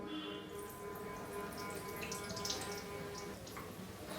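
Water poured from a vessel onto a cooling cloth bandage wrapped around a leg, a soft continuous trickle and splash with scattered drips, faint and close, no voices.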